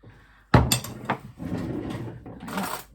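A jar of paprika being opened in a kitchen, with a sharp lid crack and a couple of clicks followed by faint rustling, close and fairly loud, no talk.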